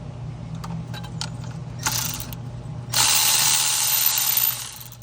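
A ratchet works loose the 17 mm top hat nut on a C6 Corvette shock absorber, first in a few quick separate clicks, then in a loud, fast, steady ratcheting burst close by that stops abruptly.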